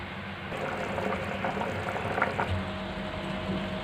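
Salted water coming to a boil for prawn pulao rice, a steady bubbling simmer with a soft hiss and a few faint clinks, heard alone and fairly close.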